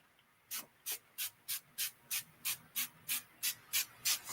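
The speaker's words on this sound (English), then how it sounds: "I'm going to spray my face" Facial mist sprayed onto a face at close range: about a dozen short, crisp hissing bursts in a steady, even rhythm over a quiet background.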